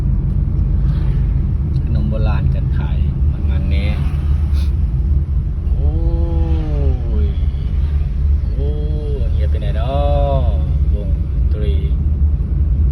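Heavy road traffic rumbles steadily through a crowded street during a long holiday, with cars idling and passing close by while people talk loudly over the constant engine noise.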